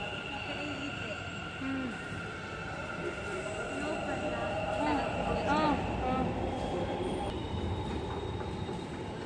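Steady rumble of a Bangalore metro train at Dasarahalli, with a sustained hum and faint squeals and clatter throughout, fairly close.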